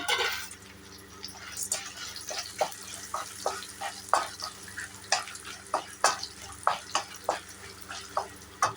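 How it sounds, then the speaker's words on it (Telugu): Coriander seeds and dried red chillies dry-roasting in a pan, with a steady sequence of sharp crackles and light scraping clicks repeating about once per half-second, close and clear. "నేను ఇప్పుడు దానికి కావాల్సిన ధనియాలు వేస్తున్నాను"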